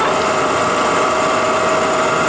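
A Ryazan Stanko 16K40 heavy-duty engine lathe, 36 by 120 inches, runs with a steady mechanical hum and whine as its clutches engage, a loud, continuous machine drone with no talk.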